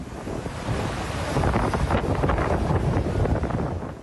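Super Typhoon Ragasa lashes the coast of Batanes in the northern Philippines. Heavy waves crash and surge under strong wind that buffets the microphone in a loud, continuous roar.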